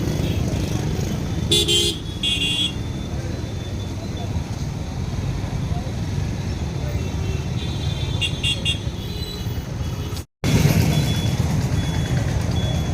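Crowded street in Thakurnagar jammed with traffic after a railway level-crossing gate closed, a dense steady rumble of engines with a few short horn toots, people voices mixed into the din.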